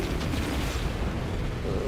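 Torpedoes striking a ship's shields during a space battle in No Man's Sky, heard as a dense, continuous rumble of booming impacts and explosive bursts that stays loud and steady throughout.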